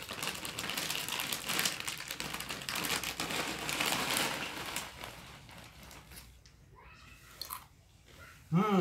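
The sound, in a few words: eating crunchy salted jackfruit seed chips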